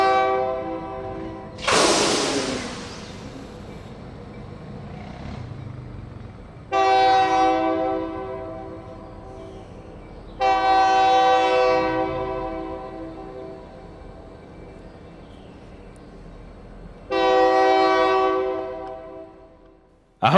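Freight locomotives running light as light power on the Louisiana Southern Railroad sound their horn in four long blasts spread over about twenty seconds, loud and close, with engine rumble between blasts.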